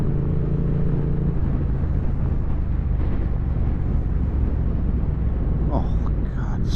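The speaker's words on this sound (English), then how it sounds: "I do love the sound of this bike." A 2023 Triumph Speed Twin 900 motorcycle engine drones continuously at riding speed, its low rumble wrapped in heavy wind noise, with a rider speaking briefly over it.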